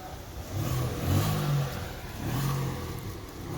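A Datsun car engine revs twice in quick succession, each rise swelling then dropping back, heard fairly close against a steady outdoor background with no speech.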